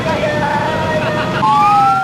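Ambulance siren caught in a traffic jam during a convoy of thousands of vehicles on the central Sumatra highway in Lampung, a wailing siren rising and falling close by over steady road noise.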